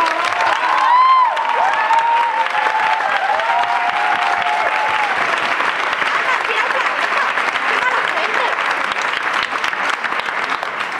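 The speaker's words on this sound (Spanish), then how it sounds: "¡Un aplauso a María!" Sustained applause from an audience at a school musical fills the room, steady and dense with many hands clapping, plus a few voices calling out.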